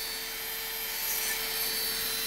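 Power sander held at about a 45-degree angle grinding across a surface, a continuous bright high-pitched whir with a steady tone and no pauses, close to the microphone and with no talk over it.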